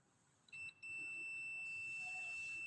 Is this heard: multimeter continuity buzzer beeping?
yes